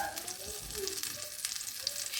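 Eggplant slices (beguni) frying in a wok, a steady close crackle and hiss of hot oil with small bubbling pops throughout, alone with no talk.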